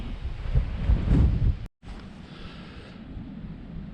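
Wind blowing around Trumpan Church on the Isle of Skye buffets the microphone with a heavy low rumble, cuts out briefly, then settles into a steadier, lighter rush outdoors.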